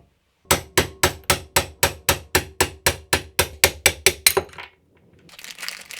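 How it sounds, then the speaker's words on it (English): Fifteen sharp, evenly spaced metallic knocks ring out loud and close as worn bushings are pressed out of a tapping stand arm, each hit decaying quickly, followed by a short quiet stretch and a soft hissy rustle. "decided to press the bushings out again and replace it with new ones"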